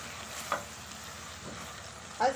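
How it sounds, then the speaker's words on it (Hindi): Tomato masala for moong dal tadka mashed with a spoon in a pan: a soft, continuous sizzle with two brief scraping thuds of the spoon against the pan, close and quiet. "इस तरह स्पून की हेल्प से हम इसे जो है अच्छे से मैश कर लेंगे ताकि जो है मसाले में अच्छे से मिक्स हो जाए।"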